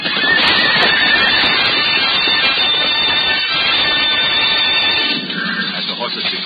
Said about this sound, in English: Once again, they move toward each other with mortal intent, flying hooves pounding the turf like drums of doom.